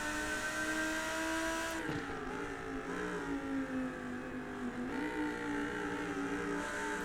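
Race car engine in iRacing at Spa, a steady harmonic engine whine whose pitch drops and climbs again through quick downshifts, with a dip around two seconds in and another near five seconds, heard close and continuous without talk.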